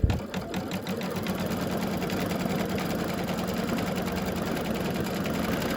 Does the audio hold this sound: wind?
no